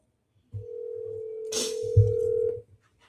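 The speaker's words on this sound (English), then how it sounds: "Let me see if I can get Al on the phone, right" A telephone being dialed: a steady dial-tone hum with a short burst of keypad tones partway through and low thumps of handling, close and clear with no talk.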